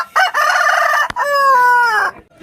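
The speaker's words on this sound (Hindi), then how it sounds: "चंचल है, स्पीड है मुर्गा में दोस्तों।" A rooster at a village livestock and poultry market in Dhubri crows loudly and close by, a rising first call broken by a short gap and then a long drawn-out wavering crow that fades at the end.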